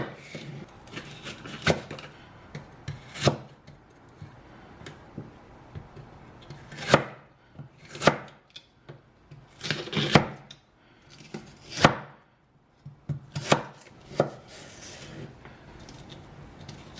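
A knife chops celery finely on a cutting board in irregular bursts of sharp, close knocks, with short clusters separated by brief pauses.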